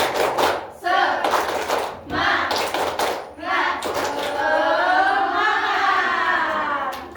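A classroom group of pupils does a rhythmic spirit clap in unison, bursts of hand claps with short gaps, then sustained children's voices chanting or shouting along near the end.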